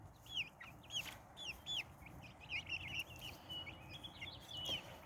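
Chickens cluck and chirp in short, scattered calls over a low, steady background hum, fairly close but not loud.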